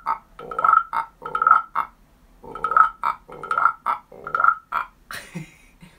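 Wooden frog rasp scraped with a stick, producing ratchety croaking strokes in a steady rhythm with short pauses, close and clear.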